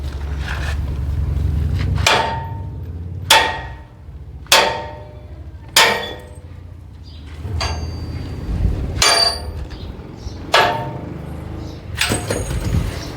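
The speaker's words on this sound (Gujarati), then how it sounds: "ઘણ હું ધબધબાટી બોલાવીને ત્યારે નીકળે" A sledgehammer pounds the tines out of a nine-tine farm cultivator with about eight heavy, ringing metal blows spaced a second or so apart, loud and close over a low background hum.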